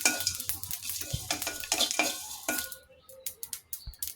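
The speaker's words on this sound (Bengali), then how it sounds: "জিরেগুলো আমার ফুটে যাচ্ছে সুন্দর।" Cumin seeds frying in a hot pan give a steady close sizzle, with a spoon stirring and scraping against the pan and a few light clinks toward the end.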